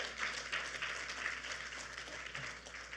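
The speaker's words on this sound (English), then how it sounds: "Give yourselves a round of applause." Audience applause in a conference room during a policy panel on Senior Corps and independent living, a steady wash of clapping filling the full three seconds at moderate, somewhat distant level.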